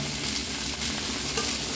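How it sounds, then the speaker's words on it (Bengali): Potato and cauliflower pieces sizzle in a pan with lightly fried rice for a Bengali cauliflower dish. The frying is a steady, close, dense crackle that holds throughout. "চালটা একটু হালকা ভাজা ভাজা মতন হয়ে যাওয়ার পরে আলু আর ফুলকপিটা দিয়ে দিলাম"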